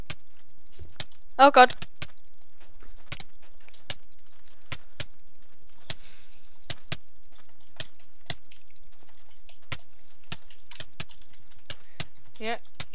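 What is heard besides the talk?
rapid mouse clicking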